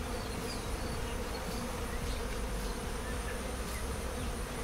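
Honey bees hum around an open hive with a dense, continuous, steady buzz, close and unbroken throughout with no voices.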